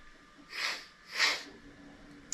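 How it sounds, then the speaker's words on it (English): A single person sneezes in a quiet garage late at night, a short inhale burst followed by a sharper, louder sneeze, close and alone with faint room hiss. "About to sneeze."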